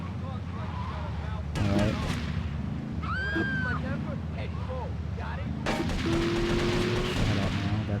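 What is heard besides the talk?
gunfire in video game Grand Theft Auto: Liberty City Stories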